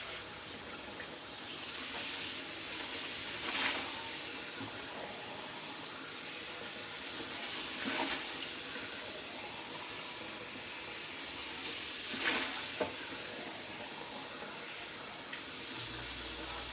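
Water running steadily from a tap while a baby bottle is sanitized, a continuous soft hiss with a few brief splashy surges, heard alone at moderate distance.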